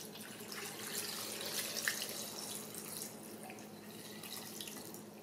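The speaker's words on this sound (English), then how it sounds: "we're just going to pour the brine over the top of the eggs" Cooled pickling brine pours steadily from a container over peeled quail eggs in a glass jar, a continuous soft splashing trickle heard close up with no talking.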